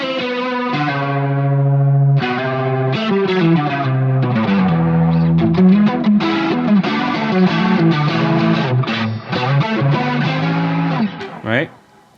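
Overdriven electric guitar through a Fractal AX8 preset with a warbling vibrato effect plays a loud melodic phrase of sustained and picked notes, fading out at the end.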